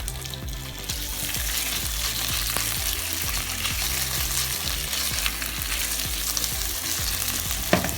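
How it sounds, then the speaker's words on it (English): Thin-sliced beef fries loudly in a hot pan with sesame oil, a dense continuous sizzle with the pan being stirred and knocked in a steady rhythm, close up, no one talking. "you're going to grab a portion of your beef. Throw that into the pan."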